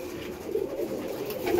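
Pigeons coo softly and steadily inside a large cage, a low continuous murmur from several birds at a moderate distance.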